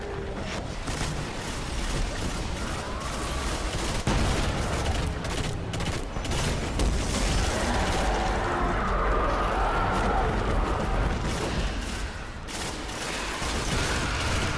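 Dense rapid gunfire and booming blasts against waves of enemies in the video game Destiny, a loud, almost nonstop barrage of shots with mechanical clatter, the firing thinning briefly near the end.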